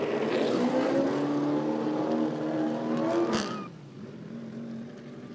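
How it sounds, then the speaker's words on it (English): Super late model race cars at Rockford Speedway roar at high revs, and the engine pitch climbs and sweeps before dropping away to a lower, quieter drone as the cars move off into the distance. "Oh man, do those super late models go."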